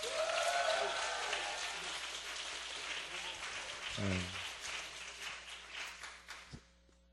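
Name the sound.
congregation clapping loudly in church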